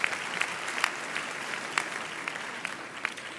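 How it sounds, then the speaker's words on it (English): A seated audience at a University of the Free State graduation ceremony applauds a speaker, a dense, steady roar of many hands with sharper individual claps popping out at irregular moments. "Won't you give her another round of applause?"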